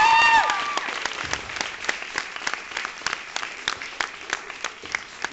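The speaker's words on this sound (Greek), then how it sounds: "Ένα χειροκρότημα για τα πράξια." A small group claps for several seconds at a photo shoot. The clapping starts loud after a brief voice and then thins into scattered, fading claps.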